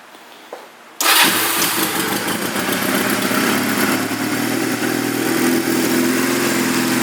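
A 2004 Honda CMX250 Rebel motorcycle in black cranks and catches after a second of near silence, then settles into a loud, steady idle close by, running alone with no talk.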